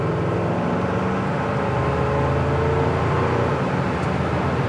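A 1968 Chevelle SS convertible picks up speed to around 65 mph on an open road, its engine a steady broadband roar mixed with road and wind noise, constant and close throughout.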